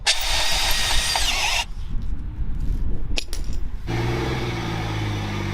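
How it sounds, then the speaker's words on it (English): A power drill bores out the cable hole on a Jeep's winch setup, a loud, continuous whirring grind that drops away midway, then resumes with a lower, steadier hum. "So to make life easier, I'm going to drill the hole a little bit bigger."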